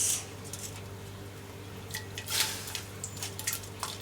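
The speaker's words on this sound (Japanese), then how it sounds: "この中に先ほど茹でてあげましたごぼうを入れていきます。" Boiled burdock root dropped into simmering dashi broth in a home kitchen, giving soft wet plops and drips, with a few brief splashy bursts in the second half over a faint steady hum.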